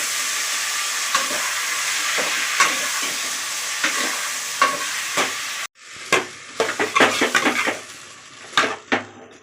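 Tomatoes sizzle and fry in hot oil in a pan, a steady crackle broken by repeated scraping stirs, briefly dropping quieter before more close, clattering stirring strokes.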